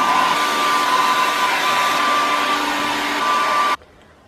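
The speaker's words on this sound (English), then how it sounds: "now I'm going to be drying my hair" A hair dryer blows steadily and loudly with a constant whine while drying hair, then cuts off abruptly near the end.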